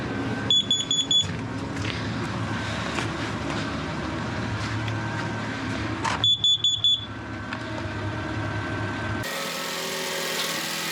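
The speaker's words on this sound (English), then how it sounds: "the carbon monoxide alarm keeps going off." A carbon monoxide alarm inside a van beeps in two short high-pitched clusters over the steady rumble of the idling engine and running diesel heater.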